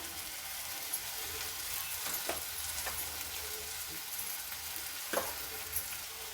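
Bitter gourd pieces fry gently in a pan with a quiet, even sizzle, a low hiss running throughout with a few faint stirring knocks, close but soft, and nobody speaks.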